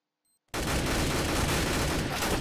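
An M4A1 rifle fires in Counter-Strike on de_inferno, with dense, rapid, loud gunfire bursting in suddenly after a brief silence and roaring on continuously.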